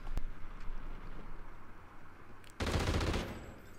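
Gunfire in Call of Duty Ghosts multiplayer, with a sharp shot at the start and a louder burst of rapid fire near the end over a low background rumble.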